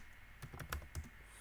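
A short run of about five quiet, crisp keystrokes on a computer keyboard while typing React code.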